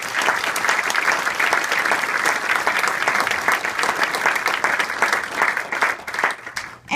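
Audience applause at a croquet charity fundraiser for epilepsy, a dense, steady clapping from a crowd that holds at full strength for several seconds before tapering slightly at the end.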